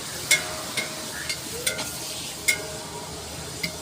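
Onions fry in oil for mutton biryani while a spoon stirs them, sharp scraping clinks landing every half second or so over a steady close sizzle.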